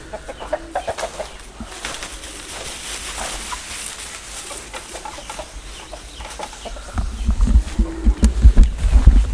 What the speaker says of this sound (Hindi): ये सुबह से मुर्गी का आवाज़ यहाँ पर आ जाता है